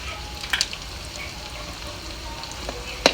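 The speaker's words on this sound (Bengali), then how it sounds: "এগুলোকে একটু ভাজা ভাজা করে নেবো" Whole cumin, dried red chillies, onion and potato fry in a pan for a rustic village-style chicken curry, giving a steady low sizzle with a few brief clinks of stirring near the start and a sharper scrape at the end.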